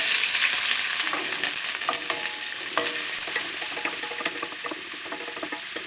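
Ginger, green chilli and onion fry in a pan after mustard seeds have popped, giving a steady loud sizzle broken by scattered light scrapes and small crackles, with no voices.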